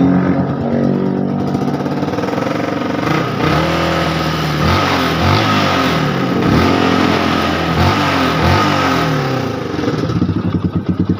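A Yamaha R15 V3 motorcycle engine with a sudden-stalling, sputtering fault revs up close, rising and falling in pitch several times before settling back toward idle; loud and continuous.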